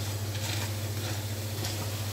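Pakoda fritters for a curry deep-fry in hot oil with a steady, close sizzle and faint bubbling, joined by a constant low hum from the stove.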